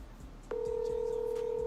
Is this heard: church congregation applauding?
no